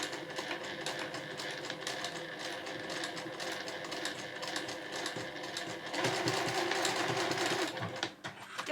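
A sewing machine backstitches across seam allowance edges and overlapping loops on a fabric tissue case, running steadily and fast with a dense mechanical whir close by, growing louder near the end before briefly pausing.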